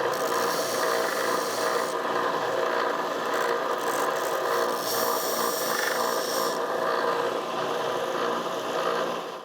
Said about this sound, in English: I'm just gonna sand it nice and smooth